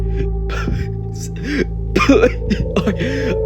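A man coughs, sputters and gags in several rough, choking bursts close by, the strongest in the middle of the stretch, with strained breathing between them.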